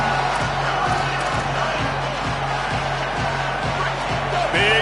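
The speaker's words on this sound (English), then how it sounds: "Big 3rd down as the crowd gets behind this defense" Football stadium crowd at a college game at Penn State, a steady roar of many voices cheering throughout, loud and continuous with a swell near the end.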